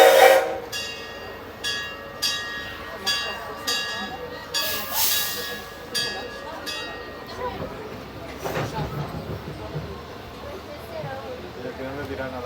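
A train pulls away from a station, its horn sounding in repeated bursts with hissing and rumbling, while a bell and people talking are heard nearby.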